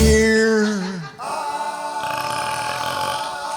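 A long, loud, drawn-out burp rolls out in a country diner setting, falling in pitch before tailing into a rough, raspy stretch with background murmur.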